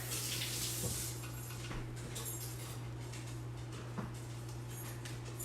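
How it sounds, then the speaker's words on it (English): A kitchen tap runs water to rinse an Easy Read measuring cup, giving a steady broadband rush with faint knocks of the cup under the stream and a constant low hum beneath. "Let me rinse it out real quick"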